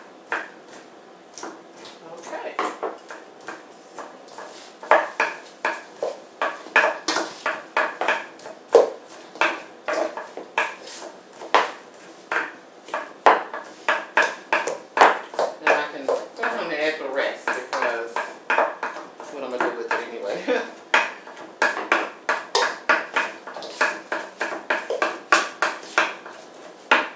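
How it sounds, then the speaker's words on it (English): Rapid, irregular knife strokes on a cutting board from a chef working in a kitchen, steady clacking chops that run throughout at moderate distance with faint background talk mixed in. "chef just chopping away back there."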